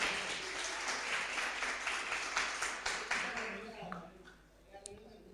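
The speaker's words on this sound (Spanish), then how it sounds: "Otro aplauso a Carlitos." A gathered group claps for Carlitos, a moderate burst of applause that holds for a few seconds and then fades out into scattered claps and faint room noise.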